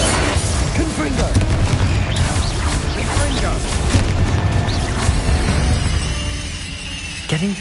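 A Confringo blasting spell goes off in Hogwarts Legacy amid dense game combat: a continuous barrage of booms, crashes and magical impacts with spoken voices over it, easing into a quieter tail with one sharp hit near the end.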